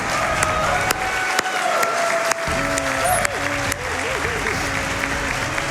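Scattered hand claps ring out over a steady electronic tone and background sounds from Donkey Kong Jungle Beat at a speedrun event.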